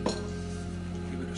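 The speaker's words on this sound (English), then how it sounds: "Give it a stir." Soup being stirred in a pot with minced garlic and oil, a steady soft scraping and clinking of a utensil against the pot under a low continuous kitchen hum, close and moderately quiet.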